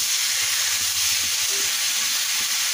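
Hot water poured onto a sizzling chicken gravy masala, giving a loud, continuous hissing and bubbling sizzle, close up and steady, with light stirring knocks underneath and no talk.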